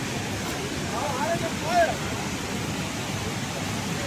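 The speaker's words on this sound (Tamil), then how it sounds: "பக்கத்துலேயே இருந்தீங்கன்னா ஒரு அருவி இருக்குது, அருமையாக இருக்குது, பார்த்துட்டு போகலாம்." A waterfall near the Agasthiyamalai trekking route gives a constant, even rush of falling water, heard at moderate distance with a faint voice briefly audible over it.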